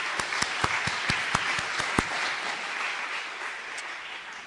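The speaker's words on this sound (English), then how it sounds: "Can we give them another round of applause, please?" A graduation audience in a hall claps, with sharp individual claps standing out at first, then a softer, thinner patter that tapers off, with no voices over it.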